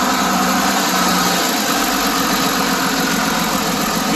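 A John Deere 4450 tractor engine idling loud and steady close by, a constant low rumble with vibration and no change in pitch, no talking.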